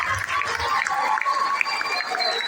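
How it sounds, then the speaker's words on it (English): Sustained applause from a lecture audience after a talk by Prof. PLO Lumumba on education in Africa, a dense, steady patter of clapping with a crowd murmur beneath it. "A round of applause for him."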